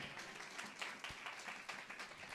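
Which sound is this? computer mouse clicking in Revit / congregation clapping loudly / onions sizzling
congregation clapping loudly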